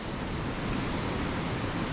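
Hurricane Ian's strong wind roars steadily at 155 mph sustained, with gusts up to 190 mph, as loud, dense broadband noise buffeting the microphone continuously throughout, with no talk.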